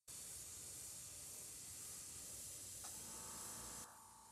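Airbrush or spray gun hissing steadily while painting a zombie Batman figure, a continuous close broadband spray with a brief sputter near the end before it drops slightly quieter.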